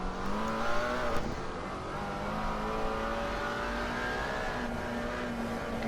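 A GT3 or GT4 race car engine in a multiclass racing video game at Laguna Seca drones steadily at high revs, its pitch slowly rising and falling as it accelerates, loud and alone.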